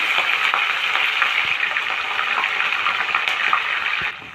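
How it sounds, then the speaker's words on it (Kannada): Chopped green chillies fry in a little oil alongside curry leaves, giving a steady, close, bright sizzle that runs without a break and is briefly stirred near the end. "ಹಸಿಮೆಣಸಿನ್ಕಾಯಿನೂ ಈ ಥರ ಫ್ರೈ ಆಗ್ತಾ ಇದೆ ಚೆನ್ನಾಗಿ"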